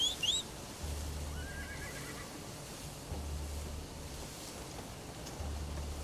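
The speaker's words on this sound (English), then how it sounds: "I don't even know if it's worth calling the horse." A horse in Crimson Desert whinnies in rising calls right after being summoned, followed by a steady low rumble of hooves that fades and returns in waves under a windy, hissing ambience.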